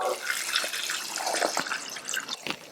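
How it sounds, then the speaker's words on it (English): Water splashes and trickles steadily into a pot, a bright, continuous pour with small irregular bursts. "add double the amount of water"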